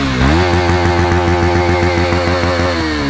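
A KTM Duke 250 BS4 motorcycle engine runs loud and close, holding a steady, throbbing idle with a slight rev change at the start and no voices.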